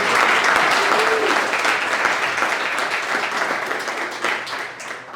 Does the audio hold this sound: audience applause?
yes